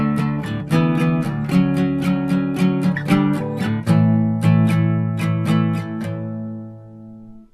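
Guitar playing a bridge chord, a 5 chord rooted on the 6th string, strummed in a steady, repeated rhythm of bright close strokes that ring out and fade at the end.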